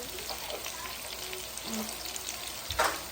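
Beef liver frying in a cooked spice masala gives a soft, steady sizzle close by, with a few stirring scrapes and a brief clatter near the end.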